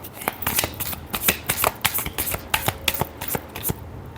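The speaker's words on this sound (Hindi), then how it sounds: "Last shuffle." Tarot cards are shuffled by hand in quick, crisp riffling bursts, a steady run of sharp papery slaps and flutters, close and clear with no talking.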